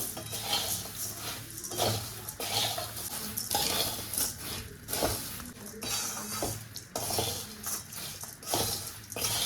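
Dry, rattling scrapes of a spatula stirring fried flattened rice with powdered sugar in a hot metal pan, continuous and fairly loud with rhythmic clinks throughout.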